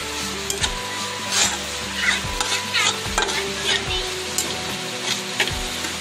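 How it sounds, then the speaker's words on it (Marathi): A modak filling roasts in ghee in a pan while a spoon stirs it. There is a steady loud sizzle with repeated scraping strokes at a regular pace. "ह्याला चांगलं आपण भाजून घेणार आहे तुपामध्ये."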